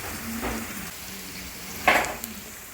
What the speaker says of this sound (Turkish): Soğan ve biberlerimiz yeterince kavruldu